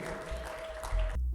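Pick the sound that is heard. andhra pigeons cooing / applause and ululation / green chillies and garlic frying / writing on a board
applause and ululation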